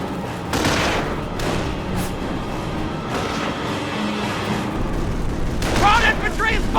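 Dense bursts of gunfire from the World War II strategy game Company of Heroes, a steady rattle of rifle and machine-gun fire over rumbling battle noise, with shouted voices mixed in.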